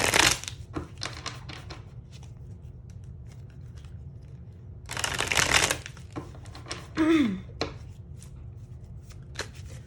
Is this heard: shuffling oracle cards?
yes